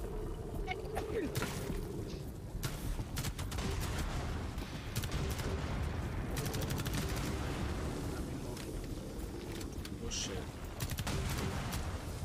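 Enemy gunfire in the video game Rainbow Six Extraction, a steady stream of rapid shots and bursts with occasional heavier booms, continuing for a long stretch while a player talks over it.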